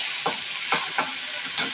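Chopped tomato frying with spices for a fish curry, a loud, bright sizzle punctuated by four quick scraping stirs spaced about half a second apart, close up and with no talking.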